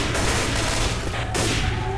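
Gunfire in the Left 4 Dead 2 video game crackles as a loud, dense burst of rapid shots with a booming rumble, fading slightly toward the end.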